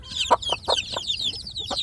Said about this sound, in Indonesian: anak ayam kampung saya sedulur yang ada di box pembesaran